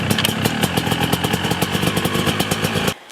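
A Yamaha YZ250 two-stroke dirt bike, freshly rebuilt and being broken in, runs close by with a loud, rapid, steady engine beat and clattery pops before it cuts off abruptly near the end.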